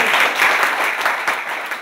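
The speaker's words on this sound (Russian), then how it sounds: "Громкие аплодисменты." Loud, dense applause from an audience at a Kazan University event with a visiting employer, a thick wash of many clapping hands fading slightly toward the end, with no talk over it.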